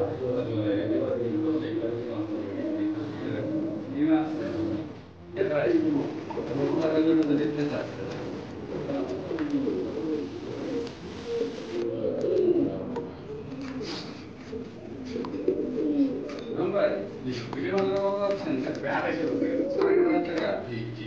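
Indian white Bokhara and black fantail pigeons coo in soft repeated throaty phrases close by, with someone talking over them throughout.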